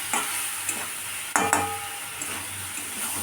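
Soybean chunks and potatoes sauté in oil in a pan and are stirred with a constant sizzle, broken by a few scrapes and a sharp clatter of the utensil against the metal.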